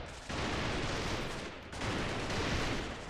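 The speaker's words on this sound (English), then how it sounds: "that's a lot of gunfire" Gunfire in the PC game Freeman Guerrilla Warfare forms a dense, continuous crackle of distant overlapping shots, like a far-off firefight, rolling on for several seconds with a brief dip partway through.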